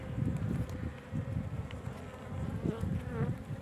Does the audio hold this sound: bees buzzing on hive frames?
yes